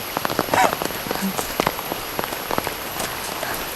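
Rain falls steadily on surfaces at Tham Luang cave in Chiang Rai, a dense patter of close drops with scattered louder splashes throughout.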